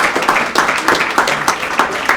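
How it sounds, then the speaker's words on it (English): Brief scattered applause from a small gathering at a town Republican committee meet and greet, a handful of hands clapping in an uneven, moderately loud patter for about two seconds. "Everybody give yourself a round of applause."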